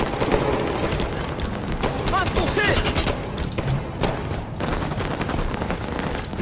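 Rapid gunfire and booming blasts from a Halo 5 Warzone match, loud and continuous for several seconds with dense shots and explosions throughout.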